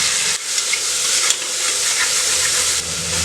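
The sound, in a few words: sautéing mint and coriander for mutton nombu kanji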